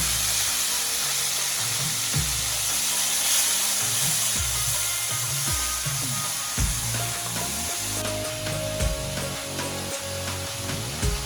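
Small diced potato cubes fry in a pan for sabudana khichdi, a constant loud sizzle with repeated scraping and stirring knocks, close up and free of speech.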